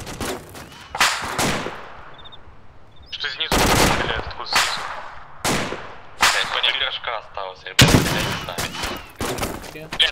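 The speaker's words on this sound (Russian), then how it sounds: "Что снизу стреляет, откуда снизу?" Gunfire in the video game ArmA 2, repeated loud bursts of automatic fire and sharp shots in irregular clusters with brief gaps and ringing tails, and a voice talking now and then.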